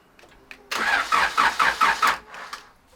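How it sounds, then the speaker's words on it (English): Turbo Honda Civic engine being cranked, with a rhythmic series of about six loud starter pulses over a second and a half, then a brief catch before settling quiet. "Alright, Jordan, crank"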